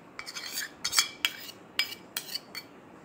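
A spoon mixing a homemade face scrub of coconut and fresh tomato puree in a bowl, giving about eight short, clinking scrapes at an irregular pace, fairly quiet and close.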